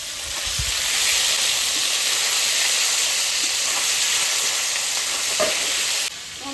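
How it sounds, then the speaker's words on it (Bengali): Fish fries lightly in a pan of oil with a loud, steady broadband sizzle and hiss, a few faint clinks early on, and a brief dip near the end. "মাছটা বেশি ভাজবো না, হালকা ভেজে নেবো,"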